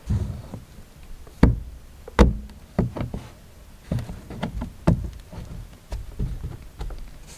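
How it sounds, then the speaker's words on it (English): A screwdriver prying up three small plastic clips on the oil filter cover of a 2021-2023 Hyundai Santa Fe, a series of sharp close knocks and clicks spaced irregularly, no talking. "you're going to take a screwdriver and just gently pry up these 3 little plastic clips"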